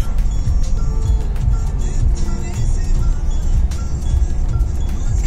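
A Mahindra Scorpio cruising along an open road between Mughal Sarai and Agra gives a constant low engine and road rumble from inside the cabin, with faint talk and occasional clicks above the drone.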